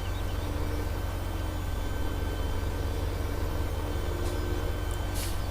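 A tractor engine in Farming Simulator 17 runs at a steady low idle throughout, a continuous droning rumble close by, with no speech over it.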